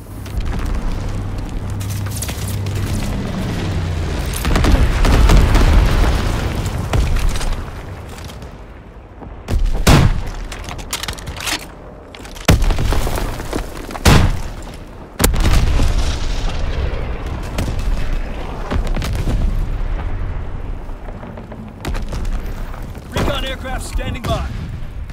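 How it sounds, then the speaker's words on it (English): Enemy air bombs explode in a World War II combat scene from Call of Duty: WWII, with loud repeated booms and bursts over several seconds amid continuous battle noise and voices calling out. "Enemy air bombs incoming."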